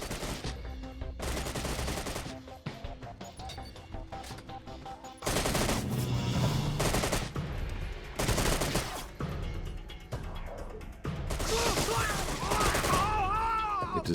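Gunfire from cover in the video game Syphon Filter: Dark Mirror, with bursts of shots across a dense, loud game soundscape layered with music and effects.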